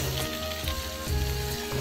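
Water from a plastic bottle poured into a pan of sizzling Maggi masala over a camping fire in a forest, a steady loud hiss and crackle of frying that swells briefly as the liquid hits.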